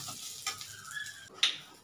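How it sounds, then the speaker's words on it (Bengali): Grated coconut frying in a pan for a vegetarian chickpea dish, giving a faint, steady sizzle with a few brief stirring scrapes, close by and with no voices. "নারকেলটা দিয়েছি, নারকেলটা আমার একটু ভাজা ভাজা হয়ে গেছে"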